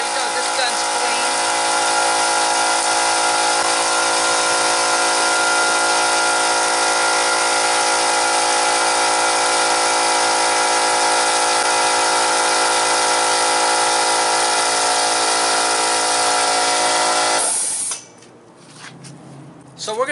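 A wet blasting gun, part of a Mr Hard Water wet blasting setup, blows out dried blasting media stuck inside during shutdown cleaning: a loud, steady, close rushing hiss that runs unbroken for about seventeen seconds, then cuts off abruptly.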